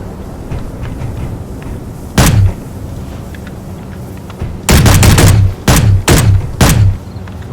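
Gunfire in the Space Engineers warfare update, shot through a barricade: a single loud burst, then a run of heavy close bursts in quick succession over a low game hum, without speech.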